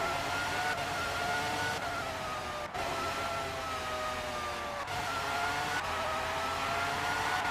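A Formula 1 car engine from the PlayStation racing game Formula 1 '97 at the Hungaroring, a steady high-pitched whine that rises and drops as the gears change, continuous throughout.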